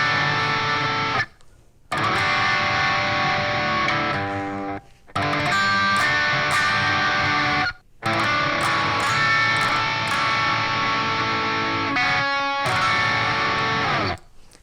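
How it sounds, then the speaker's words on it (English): Distorted electric guitar in drop tuning plays a slow chord progression of big sustained voicings, loud and close, each chord ringing out with brief gaps between changes and no talking. "altogether our chord progression sounds like this"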